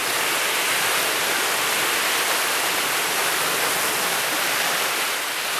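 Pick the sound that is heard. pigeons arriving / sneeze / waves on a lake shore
waves on a lake shore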